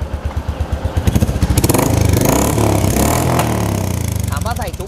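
Royal Enfield Classic 350 single-cylinder engine through a Lowell slip-on exhaust fitted with a baffle, loud distinct thumping pulses at idle that speed into a revving drone, then settle; a voice speaks briefly near the end.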